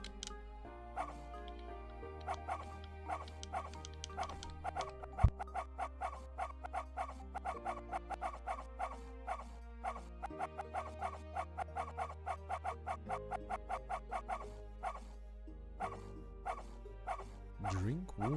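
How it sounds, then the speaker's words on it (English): Video game dog barks from a Shiba Inu's bark button, short yips repeated in a steady run over a looping game music track, with a louder burst near the middle. "The game has a bark button."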